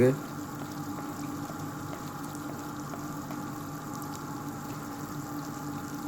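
Onions fry in a pan until light golden brown for a vegetable pulao, giving a steady, moderate sizzle and bubbling hiss that runs unbroken, with a brief voice at the very start.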